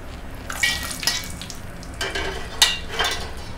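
Ingredients for ouzi pulao frying and roasting to golden in hot oil, a steady sizzle with several brief stirring scrapes and bursts spread across the few seconds, no voices.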